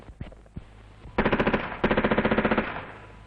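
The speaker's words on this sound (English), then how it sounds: "The test firing before going out on operations ensures the correct operation of weapons and ammunition." Soldiers in Vietnam test-fire a machine gun in two rapid bursts of sharp, evenly spaced shots, the second burst longer, loud and close with a faint echo trailing off.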